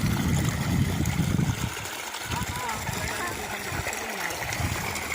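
A flowing stream gushes and trickles loudly at first, then eases to a softer steady flow, with people talking over it.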